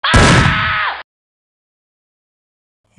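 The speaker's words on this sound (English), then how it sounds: "It's a bomb!" A bomb goes off in a Lego World War II animation: one loud, harsh blast about a second long that cuts off abruptly into silence.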